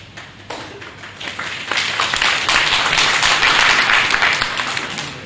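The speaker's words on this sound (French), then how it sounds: "Oh, c'est les applaudissements pour Riemann" Audience applause at a mathematics lecture in Dakar, clapping that starts thin and builds into a fuller, steady ovation over several seconds, heard from within the hall.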